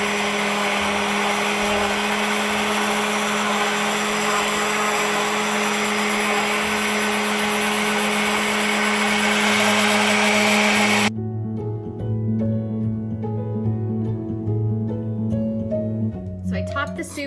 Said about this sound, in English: I'll puree the soup with the hand blender